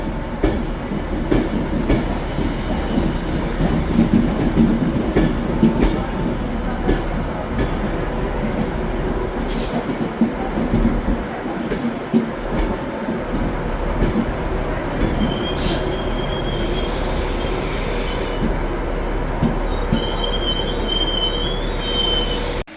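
A London Euston to Edinburgh passenger train passes through Carlisle station, a loud, steady rumble of wheels and carriages with squealing and clatter on the rails, continuing unbroken close by throughout.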